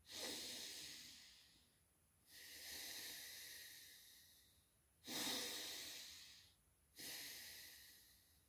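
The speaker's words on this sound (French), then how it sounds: "Et puis je commence ma respiration." Slow, deliberate breaths during a meditation breathing exercise, heard close up as four long airy hisses of inhaling and exhaling separated by brief pauses, with no other sound.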